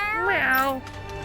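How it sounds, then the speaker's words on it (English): A cat in the Tales of Arise video game gives a single drawn-out, rising and falling meow, loud and close, fading near the end. "Ah, the cat's gonna take us."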